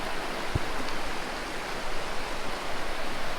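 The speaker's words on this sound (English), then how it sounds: "The river's a little bit more swelled up than what it was, and it's running a lot faster" A fast-running river swollen after a night of rain beside a valley camp rushes in a steady, broad hiss of water, continuous and fairly close, with no talk.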